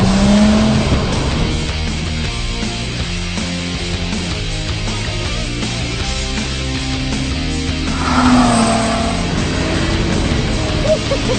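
Lotus Exige S Roadster engine driving on the road, a loud continuous drone with shifting pitch as revs change and a rising surge late on.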